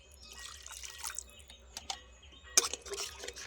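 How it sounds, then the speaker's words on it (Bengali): Water is poured from a rinsed container into a poppy seed and cashew paste gravy for Bengali potol chingri, giving soft, close splashing and trickling with a few sharper clinks partway through. "আরও কিছুটা জল দিয়ে দিচ্ছি"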